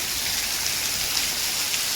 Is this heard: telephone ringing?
no